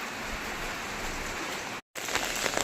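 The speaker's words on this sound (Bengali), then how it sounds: "বৃষ্টিটা আবার নামলো" Steady rain falls in an even, hissing wash, continuous and moderately loud, broken by one brief silent gap, with no voices.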